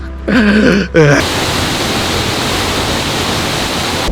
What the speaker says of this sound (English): Super close to this really cool waterfall.